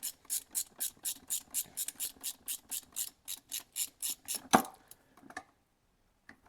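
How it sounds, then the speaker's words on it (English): A ratchet wrench clicks in a steady rapid rhythm as a plug is screwed back into an LS engine oil pump, about twenty close, crisp strokes followed by a metallic clunk and a few faint handling taps. "Get that plug screwed back in."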